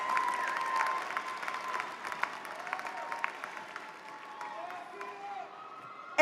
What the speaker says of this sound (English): more applause for these wonderful graduates